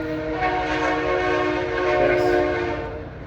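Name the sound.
passing train with horn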